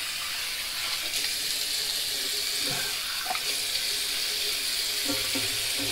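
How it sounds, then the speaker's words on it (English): Cold tap water runs steadily into a sink as a straight razor is rinsed, giving a constant hissing splash with a few faint clinks and no speech. "Use some cold water, we'll rinse this off."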